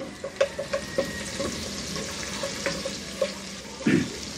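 Ginger-garlic paste frying with chopped onion in oil in a saucepan, a close, steady sizzle broken by repeated light scrapes and taps of a stirring spoon, with no voices.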